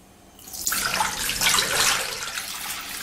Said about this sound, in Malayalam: ഇത് വെട്ടി ഒരു പാത്രത്തിലേക്ക് ഒഴിച്ചു കൊടുക്കാം.